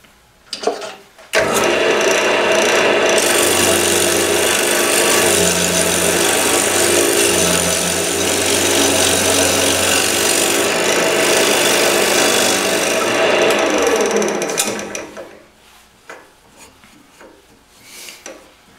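A hand tool rasps steadily against the outside of a maple bowl for about thirteen seconds of continuous, close scraping, then stops abruptly, leaving quiet.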